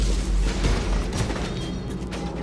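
Rockets and blasts from an AT-ST walker in Star Wars Jedi: Fallen Order, a dense, continuous barrage of booming explosions and bursts layered over each other without pause.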